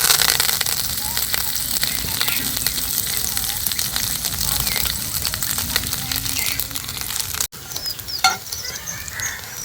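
Semolina cakes fry in a hot pan with a steady, dense sizzle and crackle that runs throughout, dipping briefly near the end before resuming, close and moderately loud.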